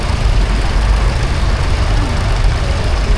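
An original Ferguson tractor engine runs at a steam rally tractor parade, a loud, steady low chugging throughout.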